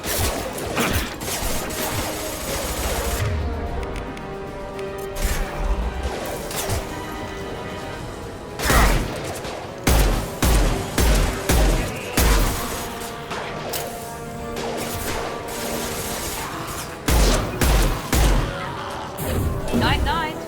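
Mass Effect 2 gunfire rings out in the video game, with loud bursts of rapid shots and sharp impacts in clustered volleys over a constant background, while voices talk between shots.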